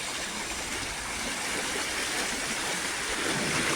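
A loud, unbroken rush of the fast-flowing Beas River near Kishanpur, Gurdaspur, in the evening fills the scene, a dense roaring hiss with no pauses or voices.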